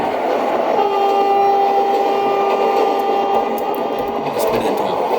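A WAP-4 electric locomotive hauls an MS-VM passenger train between Tambaram and Chengalpattu, giving a steady, loud rolling roar with sustained horn-like tones running through most of the stretch.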